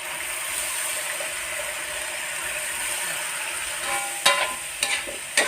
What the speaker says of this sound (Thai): ผัดไปจนกว่ากระหล่ำมันจะสุกเด้ว